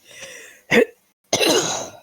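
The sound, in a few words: cough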